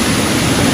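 A waterfall tumbling from a dammed ravine beside a bunker on a Pyrenees trail near Canfranc, heard as a loud, close, unbroken roar of rushing water.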